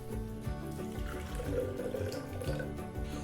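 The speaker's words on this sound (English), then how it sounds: "we're going to need 1 cup of water" Water poured for French dressing in a home kitchen, a soft steady running trickle at close range, faint and continuous for a few seconds without speech.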